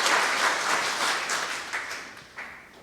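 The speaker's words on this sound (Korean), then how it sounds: "박수." Church congregation applauds the choir during a Sunday service, a short burst of many hands clapping that gradually thins out and fades, with a few last scattered claps.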